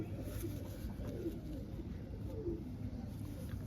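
Low, soft pigeon cooing rises and falls a few times, fairly faint against steady background noise.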